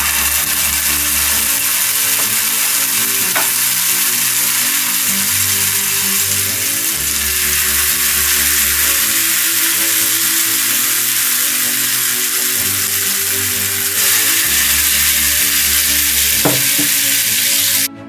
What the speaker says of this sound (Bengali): একটা একটা করে মালাই যে কাবাবটা রেডি করেছি ওটা একটা একটা করে ছাড়বো